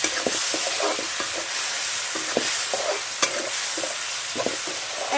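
Egg pasta stirred and frying in a pan on a home stove: a steady sizzle under repeated scraping stirs, close and continuous with no talk.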